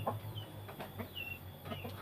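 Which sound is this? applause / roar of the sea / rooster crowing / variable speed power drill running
rooster crowing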